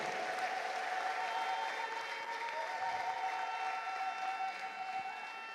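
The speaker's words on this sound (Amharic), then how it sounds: "አጨብጭቡ፣ ከዚህ በላይ አጨብጭቡ፣ አጨብጭቡ።" A church congregation claps in sustained, dense applause, a steady roar of many hands filling the room without pause, with a faint tonal hum underneath.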